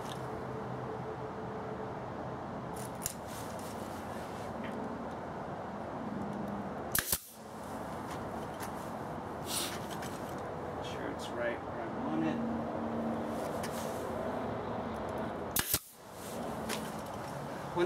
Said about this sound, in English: use my air nailer to hold it in place